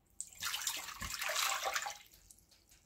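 Warm water poured into a bowl for bread dough, a short, quiet splashing gush that starts abruptly, peaks briefly and tapers off within about two seconds.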